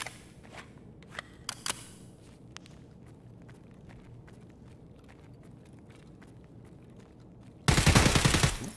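Rifle fire in the video game Escape From Tarkov: a few sharp shots early on over quiet game ambience and footsteps, then a loud, dense burst of rapid fire near the end.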